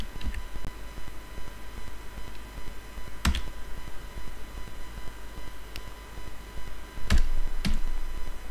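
A few sparse computer keyboard keystrokes click near the microphone, spaced seconds apart over a steady background hum.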